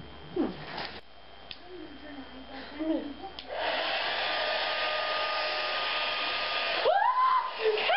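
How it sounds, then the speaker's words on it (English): A hairdryer switches on partway through and roars steadily and loudly to the end, after a few brief squeaky vocal sounds at the start. "It was just this hairdryer."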